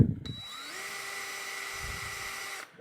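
A pinstripe removal tool spins on a power drill, stripping paint off the body of a 1985 Chevy C10; a steady, close, whining drone that rises in pitch early, holds for about two seconds, then stops.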